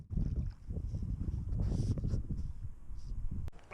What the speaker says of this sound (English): Good old Louisiana mud boat.